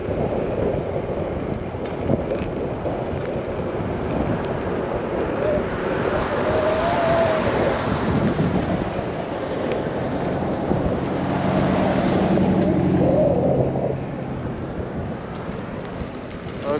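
Wind buffeting the microphone during an electric unicycle ride over mixed terrain, a continuous loud rumbling roar that swells and surges in gusts throughout, with no speech.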